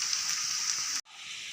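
Hot ghee sizzles steadily in a pan while preparing a tadka for kadhi pakora, a bright, even frying hiss that cuts out abruptly and then returns more softly.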